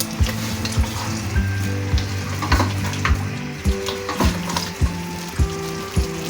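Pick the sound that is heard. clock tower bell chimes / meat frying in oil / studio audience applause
meat frying in oil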